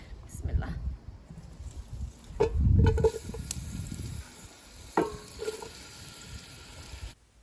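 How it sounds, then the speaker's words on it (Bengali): Duck cooking in a pan over a coal-fired garden stove, with soft sizzling and bursts of stirring and scraping, close by, while people talk over it. "হাঁস রান্না করতেছি"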